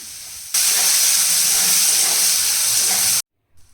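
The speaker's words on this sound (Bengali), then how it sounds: "তো চলো এটাকে ভেজে নিই" Brinjal slices seasoned with salt and turmeric frying in hot oil in a wok, a loud, steady sizzling hiss that starts suddenly, holds for nearly three seconds and then cuts off abruptly.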